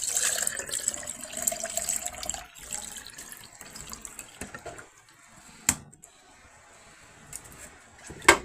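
Strained homemade ginger ale alternative with cinnamon poured into a container, a steady close liquid stream trickling and splashing, easing off midway, then a few faint drips and clinks near the end.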